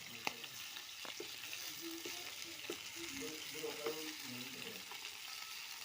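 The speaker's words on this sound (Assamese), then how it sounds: "এয়া আমাৰ মাছ ফ্ৰাই হৈ আছে" Turmeric-coated fish pieces fry in oil, a quiet, steady crackle with a few light utensil clicks, close but faint.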